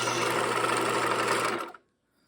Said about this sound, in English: You would not believe how quickly we are sewing this rolled hem.